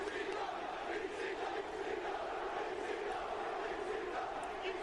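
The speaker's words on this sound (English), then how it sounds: "The crowd's excited here to get into some action tonight." Excited crowd at an ECW wrestling event, a steady distant roar of cheering and shouting that holds level throughout, with no commentary over it.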